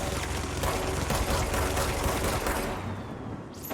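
Dense, continuous automatic gunfire in the video game Control, loud and rattling with mechanical clatter for several seconds before easing off, with no voices.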